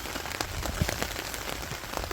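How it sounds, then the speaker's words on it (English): Steady rain pattering on a camping shelter in the Ganaraska Wilderness, a dense, even hiss of drops with a few louder close taps, heard alone without talk. "Still sitting under here waiting for the rain to go"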